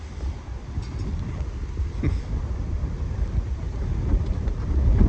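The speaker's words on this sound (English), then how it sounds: "it's a little windy out here in the Baltic Sea today." Steady wind buffeting the microphone outdoors by the Baltic Sea at Laboe, Germany, with a low rumbling roar and faint wash of water beneath, growing slightly stronger toward the end.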